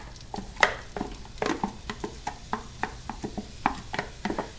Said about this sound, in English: we have 1 large garden-grown onion that we are going to throw in here and start sauteing